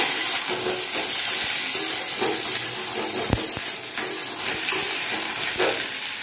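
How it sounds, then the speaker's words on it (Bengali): Ridge gourd sizzles loudly in a hot pan, a dense continuous crackle with frequent stirring scrapes and knocks close at hand. "ঝিঙেটাকে একটু ভাজা করে নেবো সামান্য একটু করে"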